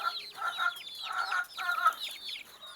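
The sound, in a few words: free-range village chickens clucking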